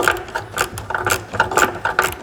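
A 10mm ratchet turning a nut down onto a stud while fitting a rear wing kit on a Porsche 991 GT3 RS, its close, loud pawl clicking in quick bursts of repeated strokes with short pauses between them.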